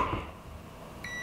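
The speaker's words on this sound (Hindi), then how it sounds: "अपने मल्टीमीटर को मैंने कंटिन्यूटी मोड पर रखा हुआ है, ये आप बीप सुन सकते हैं।" A multimeter set to continuity mode, used to check a homemade 12 volt water heater element for a short to its body, gives one brief high beep that starts near the end, after a stretch of low background noise.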